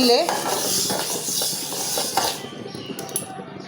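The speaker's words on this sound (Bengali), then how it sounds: "টোটালটা আমি বাইজা নিতাছি" Rice and mung dal dry-roasting in a pan for vegetable khichuri, stirred steadily with a utensil that scrapes and clinks against the metal, with a soft sizzling hiss underneath, close and fairly loud.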